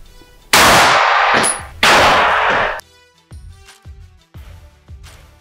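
Two pistol shots fired at a shooting range ring out loud and close, about a second apart, each a sharp blast with a long ringing tail, followed by fainter metallic clinks and taps.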